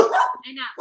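A dog gives a short bark or yip at close range, with a brief whine-like tone in the middle, against a busy indoor household setting.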